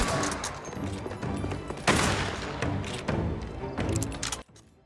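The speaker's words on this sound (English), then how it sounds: "Gunshots feel powerful" Rapid gunfire rattles through the video game Mafia: The Old Country, loud overlapping bursts and sharp shots packed together for several seconds before cutting off abruptly.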